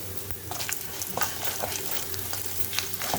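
Cumin seeds frying in a pan for a yogurt rice tempering, a close, steady sizzle broken by scattered crackles and the scrape of stirring, with no voices.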